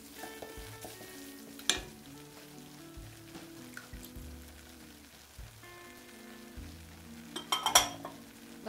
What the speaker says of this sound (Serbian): Pržite jedno, dva, tri minuta da malo zarumeni